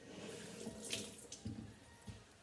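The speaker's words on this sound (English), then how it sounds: "I'm going to rinse it" Tap water runs over lobster knuckle meat being rinsed at a kitchen sink, a soft steady splash with a few louder spatters as the meat is moved under the stream.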